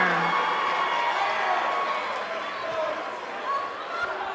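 A wrestling crowd at a live heavyweight title event roars and cheers steadily, a dense wall of voices filling the arena.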